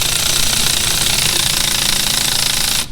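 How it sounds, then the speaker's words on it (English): A small electric ratchet spinning to remove the belt from a dry sump oil pump, a loud, close, steady buzzing rattle that runs for a few seconds and stops. "And I use my little electric ratchet,"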